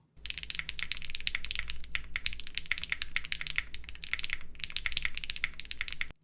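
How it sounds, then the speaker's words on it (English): Rapid, crisp keystrokes clatter in bursts on a Wind X mechanical keyboard, close and clear, with brief pauses between runs of typing. "Now I'll give you guys a quick little typing demo of this"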